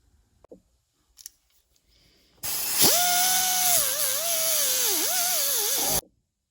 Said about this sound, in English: I took the bulk of that tab off and then smoothed it out with a Scotch-Brite disc